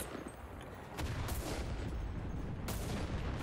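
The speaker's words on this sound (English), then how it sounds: "this gun is good even when shooting this far away" Gunfire rattles through a World War II battle in the Enlisted shooter, set on a Normandy invasion map. Several loud, sharp reports and dense distant fire stack up over constant battlefield noise, with a heavier burst near the one-second mark.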